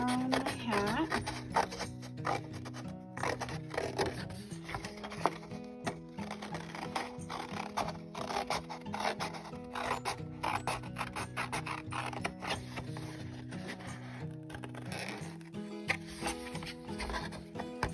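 Scissors snip steadily around a paper hat cut-out, a dense run of small crisp cuts and rustles close by, with a voice talking over much of it.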